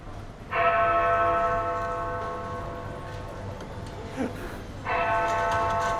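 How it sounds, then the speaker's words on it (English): The bell of a Lego Big Ben model strikes two resonant chimes, each ringing out and decaying slowly, with a quiet gap and a soft knock between them. "And actually you can hear the sound of the bell."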